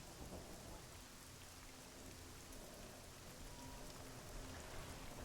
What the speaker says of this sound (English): Also, rain sounds.